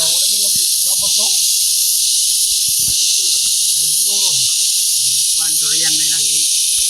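Loud, steady high-pitched insect buzzing fills the background throughout a coconut grove, with someone talking intermittently in Filipino over it.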